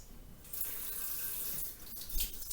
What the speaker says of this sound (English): Like always, before you start, wash your hands.